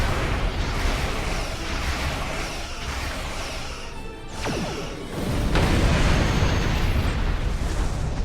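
A fighter craft explodes in the space combat video game Star Trek Online, a loud rumbling blast with a sweeping burst near the middle, set amid continuous dense battle noise with no talk.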